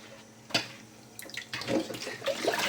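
Dried mung beans being rinsed and the water poured off in a home kitchen: a sharp splash, then uneven sloshing and trickling pours, close and fairly quiet.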